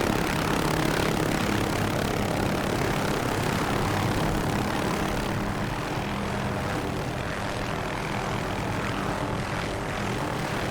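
An MH-6J light helicopter in the DCS World flight simulator, on an urban landing approach, gives a loud, steady roar of engine and rotor that runs unbroken throughout, with no voices.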